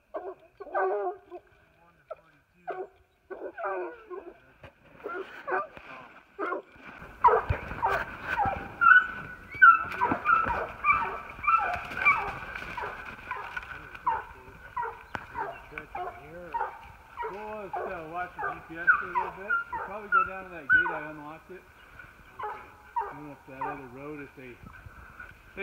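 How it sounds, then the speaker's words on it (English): Hunting dogs are released onto a mountain lion's tracks and burst into excited barking, yips and whimpers, close and loud, in irregular rapid bursts as they pull away, with people talking over them. "it was time to let the dogs loose"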